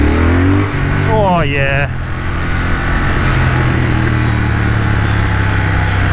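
2021 Triumph Thruxton RS motorcycle accelerating hard, the engine note climbing quickly through the revs before a gear change, then a sustained loud roar mixed with wind rush, with a brief voice over it.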